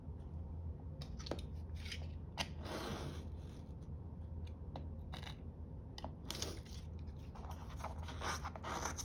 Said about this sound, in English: Somebody needs to change the blade in her X-Acto knife